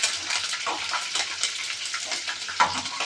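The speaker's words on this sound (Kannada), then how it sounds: "ಅದಕ್ಕೆ ಕರಿಬೇವಿನ ಸೊಪ್ಪು, ಹಸಿಮೆಣಸಿನ್ಕಾಯಿ ಸ್ವಲ್ಪ ಎಣ್ಣೆ ಚೆನ್ನಾಗಿ ಫ್ರೈ ಮಾಡ್ಕೊಳ್ಳಿ" Curry leaves and green chillies frying in a little oil for vermicelli upma, a close, busy crackling sizzle with soft stirring and no voices.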